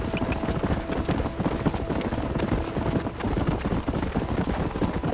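Galloping horse hooves in the Red Dead Redemption video game, a steady dense clatter of clip-clop beats under continuous busy game ambience, fairly loud and close throughout.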